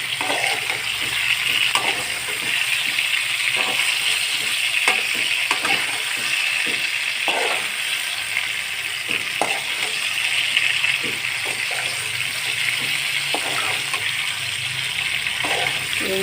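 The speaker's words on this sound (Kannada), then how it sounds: "ಎಲ್ಲ ಎಣ್ಣೆಯಲ್ಲೇ ಬೇಯ್ತಾ ಇದೆ" Eggplants browning in plenty of hot oil for ennegai give off a loud, steady sizzle with scattered crackles and pops, running unbroken throughout with no voices.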